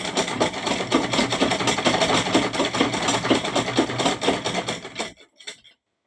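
A sewing machine stitching a pillow cover runs in a fast, steady mechanical chatter for about five seconds, close and fairly loud, then stops, leaving a few faint clicks.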